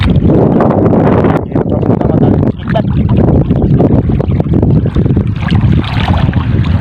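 Strong, roaring wind at sea on a fishing boat buffets the microphone in a continuous loud rush, with faint voices underneath.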